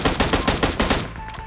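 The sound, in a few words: gunfire in the video game PUBG Mobile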